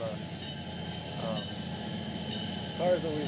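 A video-game train in Trainz 12 rolls steadily with a low rumbling drone and faint wheel squeals, a continuous mechanical hum throughout.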